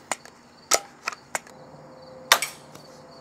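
A Daisy 35 BB gun fired during backyard plinking: several sharp, close snaps and ticks from shots and pellets striking a target, spaced irregularly over a few seconds, with no voices.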